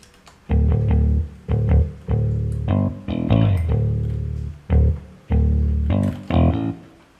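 A picked virtual bass guitar from the Prominy SR5 sample library plays a series of sustained, punchy notes with short gaps and a brief sliding passage, dry and close, no voices.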